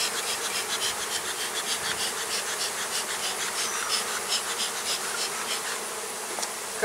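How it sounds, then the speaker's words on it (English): Honey bees swarm and buzz around an open hive while the beekeeper clears them off the inner cover, a steady, dense, close-up hum filling the whole stretch with no talking. "So first we'll try to get the bees to vamoose off of here."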